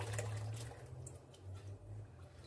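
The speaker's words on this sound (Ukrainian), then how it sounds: "Виливаємо, нам треба 5 літрів томатного соку." Five litres of tomato juice poured into a pot for a beetroot borscht dressing, a steady low liquid glug and splash running continuously with slight swells, close by and without talk.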